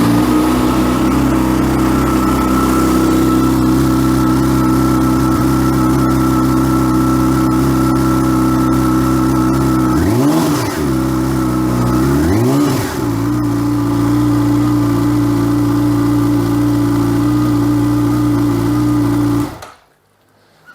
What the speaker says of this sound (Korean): 시동선과 배기음을 들어보겠습니다.